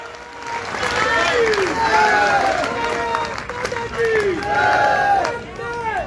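Applause and cheering from a crowd at a patriotic Hindi poetry gathering (kavi sammelan), a sustained roar of clapping mixed with raised voices that swells and dips over several seconds.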